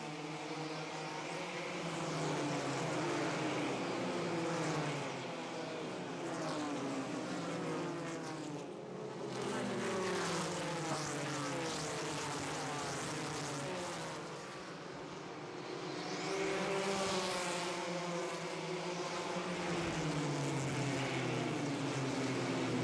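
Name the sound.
NASCAR Busch Series race cars racing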